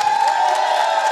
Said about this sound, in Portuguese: nossos aplausos vieram fazer a festa